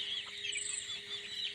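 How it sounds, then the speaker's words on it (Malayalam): Native country chicks chirp and cluck in a soft, continuous high-pitched chatter, close by and fairly quiet, with no voices over them. "ഇത് നല്ല കന്നി നാടൻ കോഴിക്കുട്ടികൾ കേട്ടോ"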